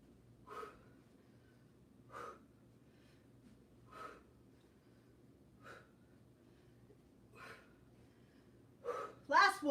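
Sharp, forceful exhales during an exercise workout, six short bursts of breath spaced a couple of seconds apart, close and fairly quiet over a faint background hum, the last two louder and quicker.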